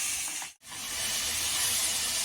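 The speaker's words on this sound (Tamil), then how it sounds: "ஸோ அதை கொஞ்சம் நேரம் ஃப்ரை பண்ண விடலாம்." Mushroom biryani masala frying in a pan, a steady loud sizzle and hiss that cuts out briefly for a moment, then returns and continues strongly.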